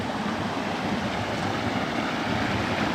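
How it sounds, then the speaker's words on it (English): A small waterfall runs over a normally dry hill path, giving a steady, continuous broadband rush of falling water that holds even and fairly close throughout, with no voices. "And we got our little waterfall going here."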